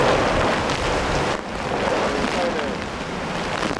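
Gusty wind and rain from Tropical Storm Fung-wong lashing the Hong Kong seaside form a steady, loud roar of wind buffeting the microphone that eases briefly partway through.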